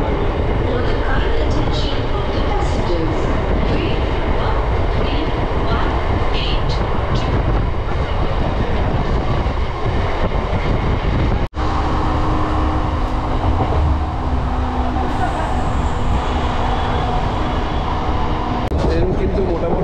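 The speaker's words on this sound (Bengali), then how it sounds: "শ্যামনগর থেকে ছেড়ে দিল আমাদের ট্রেন।" Local train pulling out of Shyamnagar station in West Bengal, heard from on board as a steady loud rumble and rattle of the carriages, continuous throughout, with a brief dropout midway and people talking faintly in the background.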